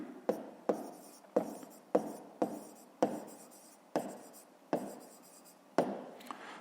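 Pen or pencil writing by hand on paper while working a math exercise, a steady series of sharp scratching strokes, each starting with a tap and then trailing off, close and alone.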